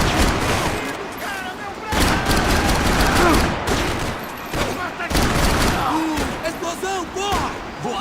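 Rapid gunfire from the video game Max Payne 3 fills the whole stretch, dense bursts of shots and impacts layered with loud excited voices talking and shouting over the action.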